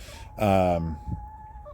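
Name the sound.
backyard chickens (hens) clucking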